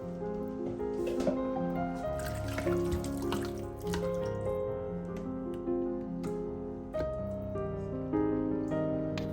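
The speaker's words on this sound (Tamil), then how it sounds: "நான் தண்ணி ஊற்றுறதுக்கு போது இப்போ சுப்புக்கு தேவையான அளவு தண்ணி இருக்கிறதானே அதை சேர்த்தா சரி" Water pours steadily into a soup pot for several seconds, a continuous splashing stream with a ringing tone that shifts as the pot fills.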